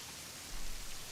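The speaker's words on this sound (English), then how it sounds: "Like bananas all this rain." Steady rain pours in what was expected to be a desert setting, a dense, even hiss that swells slightly louder partway through, with no voices.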